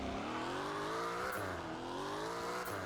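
Car launching down a drag strip in the Roblox game Fix it Up, an engine revving and climbing through gears with rising tones and quick shift breaks, fairly quiet and steady.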